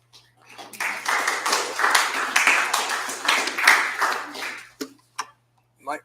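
Applause from a small audience of seniors at a church talk on Christian nationalism: about four seconds of close, even clapping that fades out, followed by a few isolated claps.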